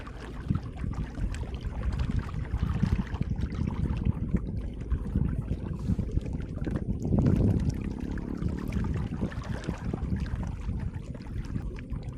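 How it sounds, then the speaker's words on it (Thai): Strong wind buffets the microphone at a reservoir campsite in Chaiyaphum, a continuous heavy low roar with gusts swelling around the middle, loud and steady throughout with no voices. "ลมแรงสุดๆ ไปเลย"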